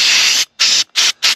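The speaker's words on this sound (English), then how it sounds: "I mean, if I give it another squirt." Four short, loud hissing bursts of WD-40 contact cleaner sprayed into a dusty caravan plug, each separated by a brief pause, close up with no talking.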